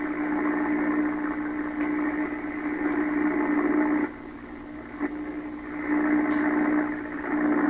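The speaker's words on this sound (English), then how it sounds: "Sounds like this is tuning the radio." Steady static hiss and hum from a 1928 RCA Victor Model 28V radio being tuned, with a few brief clicks and shifts as the noise drops and returns.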